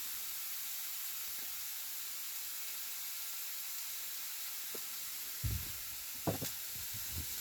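Well-drained broccoli hitting a hot pan gives a low steady sizzle and hiss, with a few louder crackles and stirring clatters near the end.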